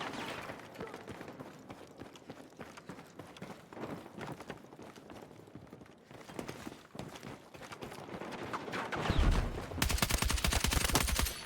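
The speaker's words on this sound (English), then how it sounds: "if you can really understand how to tap fire and burst and micro burst in this game" Rapid carbine gunfire in the Battlefield 6 video game, fired in quick taps and short bursts with dense repeated cracks throughout, growing louder and more continuous toward the end.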